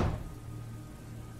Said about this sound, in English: I slammed the door shut.